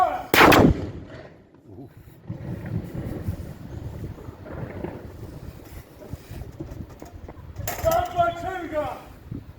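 A ceremonial gun salute fires in Guernsey: one sharp, loud blast at the start, then wind and quiet background, and a shouted command near the end.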